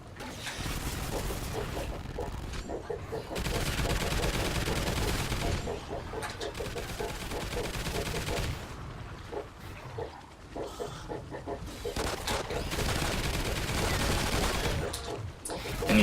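Automated sentry guns firing nonstop in the alien-fighting co-op mode of Call of Duty: Ghosts Extinction, dense rapid gunfire in long bursts with short pauses, under busy game noise.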